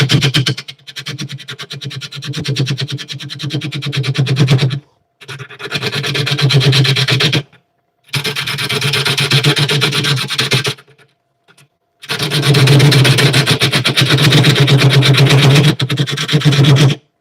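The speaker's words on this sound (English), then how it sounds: "I'm only at like 500 RPM because my lathe's little" A small lathe turns a workpiece at about 500 RPM while a tool scrapes and rasps against it in loud bursts a few seconds long. Short silent gaps separate the passes, and the buzzing has a rhythmic texture.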